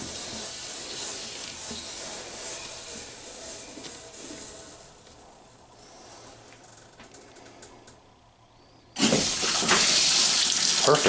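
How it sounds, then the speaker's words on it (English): Water runs steadily into a washing machine tub with a hissing rush that quiets for a while, then surges back louder and fuller near the end; the machine has an F7E5 fault and won't agitate or spin. "Just let this thing get filled up with water."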